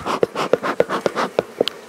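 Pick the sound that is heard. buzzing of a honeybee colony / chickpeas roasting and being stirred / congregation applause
buzzing of a honeybee colony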